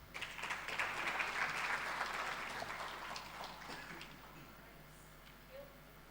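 Audience applause at a research and innovation symposium, a dense crowd of clapping that swells early and then gradually thins and fades over several seconds.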